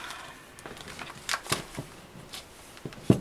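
A deck of tarot cards being shuffled by hand, with soft riffles and several sharp card snaps and taps, close and clear with no talk.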